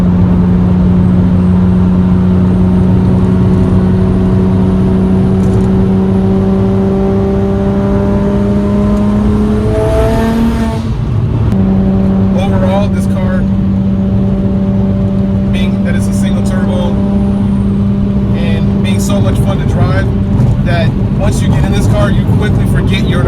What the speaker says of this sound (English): this car sounds like a jet airplane heading toward taxi on a runway